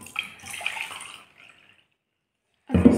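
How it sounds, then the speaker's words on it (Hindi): Water pours out briefly while a water tank alarm is being tested, a short splashing gush that stops, then a louder burst of water noise at the end. "और पानी निकाल देते हैं"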